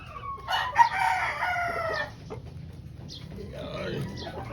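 A white kelso rooster gives one loud, harmonic crow near the start, followed by softer clucks and background noise, with someone talking nearby.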